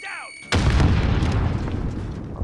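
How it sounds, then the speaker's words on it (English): A stun grenade detonates in a multiplayer video game: a quiet moment broken by one sudden, loud, close blast, then a heavy rumbling ring that slowly fades. "A stun grenade."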